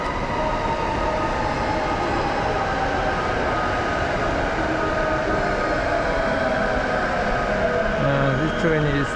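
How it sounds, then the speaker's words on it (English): A JR Yamanote Line train pulls into Takanawa Gateway Station in Tokyo with a loud, continuous rumble of wheels and motors, and a rising brake squeal near the end. "Train's coming."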